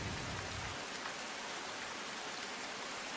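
Heavy monsoon rain falls steadily in Gujarat, a dense, even hiss of rain on surfaces with no voices, close and continuous throughout.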